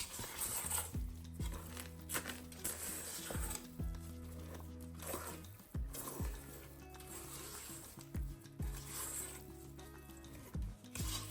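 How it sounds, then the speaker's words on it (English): A spatula folds chocolate chips into cookie dough in a bowl, giving soft, wet squishing and scraping strokes that repeat unevenly, quiet and close, with a low background hum and no talk. "We're just going to fold those in with a spatula to combine it."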